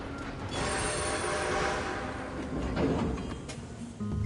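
A train runs in the video game Red Dead Redemption 2, with a continuous rumbling roll of wheels and faint metallic squealing tones rising and falling, fairly close and without speech.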